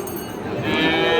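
A single low, drawn-out moo from Friesian or crossbred cattle at Raniganj cattle market in Ghoraghat, Dinajpur, close and fairly loud, swelling toward the end over a faint background murmur.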